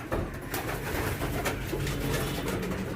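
Racing pigeons coo softly and repeatedly in a loft, with a busy rustle of many birds close by and no talking.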